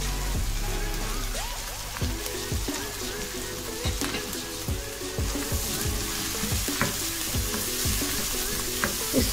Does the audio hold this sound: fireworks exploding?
no